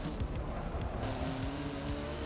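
A race car in the video game Forza 7 rumbles along with engine drone and tire noise, a short burst of in-game driving sound that is fairly quiet and has no talk over it.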